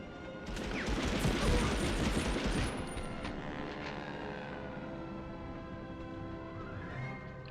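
Aircraft roaring overhead in Medal of Honor Underground, a desert battle scene, swelling loud early amid a burst of gunfire and crashing, then a droning engine tone fading away over several seconds.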